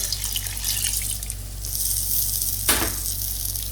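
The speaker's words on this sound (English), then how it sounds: "And add a little splash of hot water." Hot water splashes into a hot pan of karahi paneer coated in masala, giving a steady close sizzle with a brief louder hiss and splash near the end.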